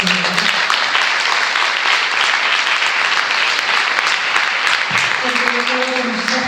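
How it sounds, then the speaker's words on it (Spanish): A conference audience at a bilingual education closing ceremony bursts into loud, sustained applause throughout, with a voice briefly audible over the clapping. "lo primero es un aplauso para la Asociación de Educación Bilingüe"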